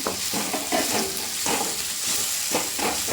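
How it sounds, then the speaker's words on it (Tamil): Green chillies and tomatoes sizzle as they are stirred and sautéed in a pan for a fish fry gravy, with repeated scraping strokes over a constant close frying hiss. "இந்த பச்சை மிளகாவையும் போட்டுக்கலாம் இது பச்சை தக்காளியும் நல்லா வதங்குற அளவுக்கு இதை நல்லா கிண்டி வச்சுக்கலாம்"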